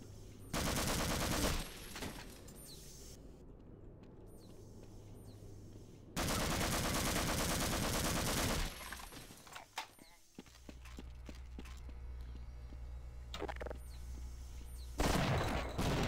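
Bursts of gunfire from the Half-Life mod Mission of Mercy, in loud dense stretches near the start and middle and then sparser shots. A low hum runs beneath, and there is some talk.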